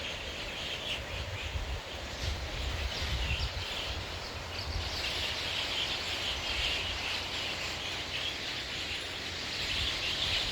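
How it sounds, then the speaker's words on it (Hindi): Many birds sing in a morning outdoor chorus, a dense, continuous layer of chirps and calls mixed with a steady insect hum, all at a fairly even, moderate level with no talking. "इतनी मधुर आवाज़ें, इतनी सारी चिड़ियाँ हैं."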